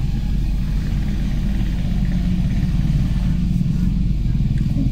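Steady low road traffic rumble with car and motorcycle engines idling and revving nearby, a continuous dense drone on a windy road as a procession slows vehicles.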